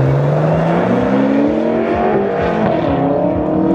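Several BMW engines, including an F10 M5 and a 3.0 diesel, revving and accelerating loudly, pitches rising as they pull away, close and continuous with no voices.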